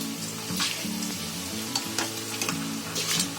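Soaked rice, three cups, goes into a pot of boiling water for prawn biryani while onion fries alongside, giving a constant close sizzle with light stirring clinks and soft bubbling.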